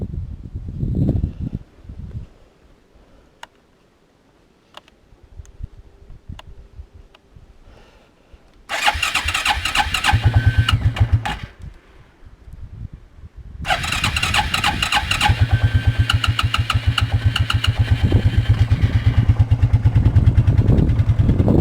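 A Quadrunner 300 ATV dug out of deep snow is cranked to a cold start: quiet clicks, then a loud sputtering start that dies after a few seconds, followed by a second start that settles into a steady rough idle.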